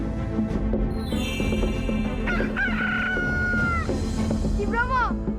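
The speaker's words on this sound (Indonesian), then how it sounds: "Ki Bromo, kamu dengar ayam sudah berkokok kan?" Rooster crowing in a village at dawn in a telling of the Mount Bromo legend, a long rising-and-falling crow set against dense background sound with other bird and animal calls, steady and fairly loud.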